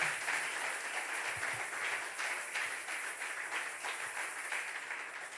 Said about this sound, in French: Please put your hands together for the word.